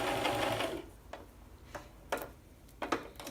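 A sewing machine runs in a brief loud burst stitching a seam, then stops, followed by scattered soft clicks and taps of handling.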